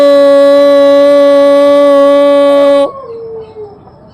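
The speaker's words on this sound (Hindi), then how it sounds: "देखो, ओंकार करने पर ये डॉगी भी ओंकार का जाप कर रहा है" A dog howls a long, steady, tonal note alongside Om chanting, loud and close, then slides down into softer whimpering tones as the howl breaks off.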